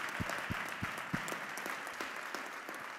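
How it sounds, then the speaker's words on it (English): Audience at a men's mental health conversation applauding young men, moderate steady clapping with a few sharp close claps standing out, somewhat distant and fairly quiet. "Y'all clap it up for these boys."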